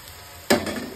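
Fried potatoes dropped into a hot pan of spiced mutton kosha with garam masala give a sudden loud sizzling crash that settles into a steady hiss.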